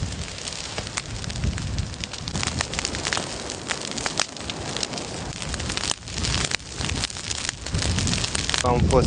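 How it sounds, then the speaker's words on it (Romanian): An abandoned orchard fire crackles and roars loudly and steadily, with dense popping and rushing noise throughout. "Se pare că focul a pornit de la o livadă părăsită, însă flăcările riscă să se răspândească și asupra fondului forestier."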